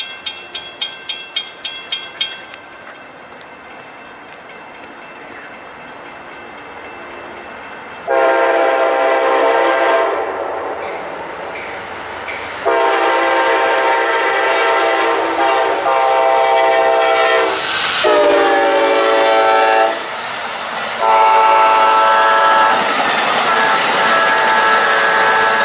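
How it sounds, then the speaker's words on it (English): A southbound train rumbles past with several long, loud horn blasts sounding in sequence, the horn dominating over steady rolling rail noise, close by. "Here comes another train."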